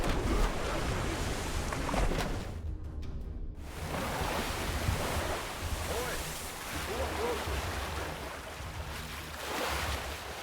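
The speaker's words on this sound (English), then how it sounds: "Into the water. Let's go while Purik's men are distracted. Swim fast" Swimming through open water in the video game Bannerlord: War Sails, with a steady wash of surf and waves and a windy rush across the whole stretch, briefly dipping quiet near the middle.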